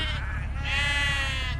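Sheep bleat nearby, a wavering nasal call that swells and fades over a steady low background hum, one long cry dominating, with no speech.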